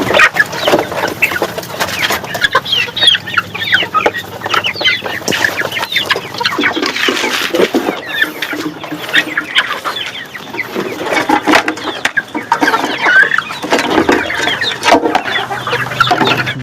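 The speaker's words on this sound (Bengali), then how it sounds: "খাচ্ছে দেখুন মুরগিরা।" Desi chickens cluck steadily and close up while pecking at food, with dense overlapping clucks and scratching throughout and no talk.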